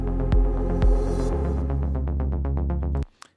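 A sustained melodic techno synth pad plays a pulsing rhythmic pattern, then cuts off abruptly, leaving a brief reverberant tail and a couple of faint clicks.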